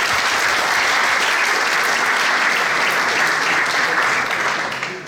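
Sustained, loud applause from an assembly at a municipal swearing-in ceremony in Ecublens, electing a commission by acclamation; dense steady clapping throughout that eases off slightly at the very end, with no voices over it.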